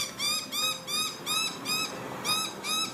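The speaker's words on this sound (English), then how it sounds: "These are just little pesty birds." Small pest birds give rapid, high, chattering calls in close bursts, about seven rhythmic calls in three seconds, over a quiet background.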